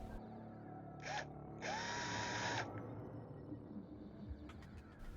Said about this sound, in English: Quick fix with the step bit.